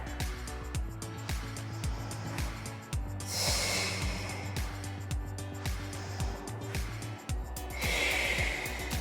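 Two long, breathy exhales during a Pilates breathing exercise come through near and clear over a steady rhythmic music backing.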